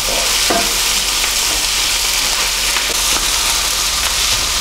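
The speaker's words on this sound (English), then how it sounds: "Now to add the red pepper, and just give that a couple of minutes in the pan." Red pepper sizzling steadily in a hot pan for a Kashmiri chicken curry, a continuous loud frying hiss with faint stirring scrapes throughout and no talking.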